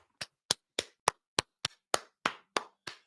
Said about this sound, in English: Everybody gets a golfer's clap.